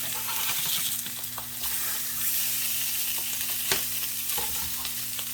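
Salmon fillets sizzle steadily in a hot pan for a pineapple-glazed meal prep, with a few soft knocks and scrapes as the pieces are flipped over, close and continuous.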